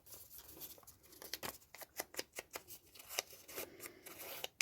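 Scissors snip and trim paper for a journal in a quiet room, giving a quick irregular run of close, crisp cuts with short pauses between.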